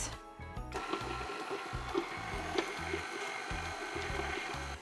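An electric mixer beats softened butter for cookies in a kitchen, a steady whirring motor with rhythmic thumping pulses as the beaters turn through the bowl.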